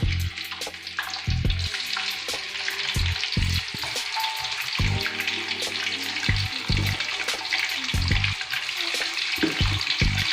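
Cut tofu crackles and sizzles steadily in hot oil in a pan, with a continuous bright fizz broken by repeated low clatters and knocks from utensils and cookware close by.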